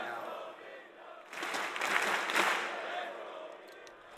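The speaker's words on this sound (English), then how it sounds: "Early, but the crowd getting into it." A large arena crowd at the CORSAIR DreamHack Masters Stockholm Counter-Strike tournament, during a Ninjas in Pyjamas vs Astralis match on Mirage, swells into a roaring cheer for a couple of seconds and then settles back to a steady murmur.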